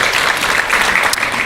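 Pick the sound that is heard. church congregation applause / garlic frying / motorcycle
church congregation applause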